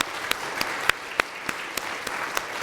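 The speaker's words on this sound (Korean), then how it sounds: "박수하겠습니다" A church congregation applauds during a Sunday worship service to welcome a new youth pastor, a steady wash of many hands clapping together, with a few sharper claps standing out above it.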